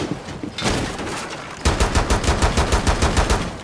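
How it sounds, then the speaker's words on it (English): Rapid gunfire rattles in the video game Rainbow Six Siege, first a scattered burst, then a loud, steady string of close, evenly spaced shots. "I was trying to like shoot him through two different walls"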